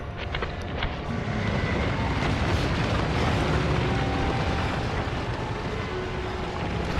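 Explosion in the video game Death Stranding: a sustained, dense roaring rumble that fills the whole stretch at steady loudness, with no clear separate bursts and no talking.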